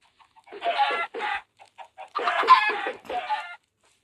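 Minecraft chickens clucking in short bursts, several close clucks in two groups separated by a brief pause, clear and fairly loud with no talk over them.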